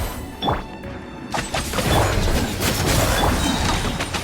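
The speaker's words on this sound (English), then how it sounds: "Pyrotechnics!" A pyrotechnic blast goes off in a video game, a sharp crashing boom followed by a rumbling, debris-filled tail with smaller impacts scattered through the rest.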